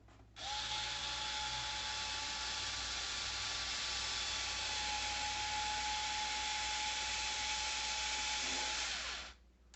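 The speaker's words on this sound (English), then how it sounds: "We're gonna drill our first hole." A power drill whines continuously for several seconds, steady and close, then winds down and stops.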